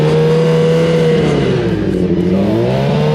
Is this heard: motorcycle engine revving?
yes